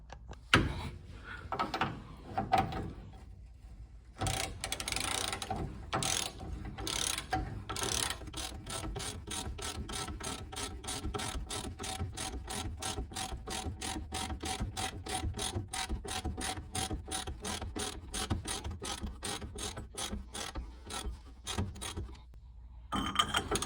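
Rapid, steady ratchet clicks from a wrench working on the front suspension of a 1957 Studebaker Silver Hawk, a long close run of sharp metallic ticks after a few heavier clanks and pauses, with no talk.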